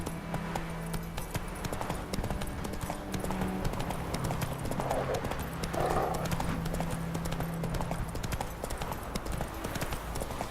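Horse hooves clip-clop steadily in The Witcher III video game, a continuous rhythmic trot with an occasional whinny, alongside soft ambient game music and no talk.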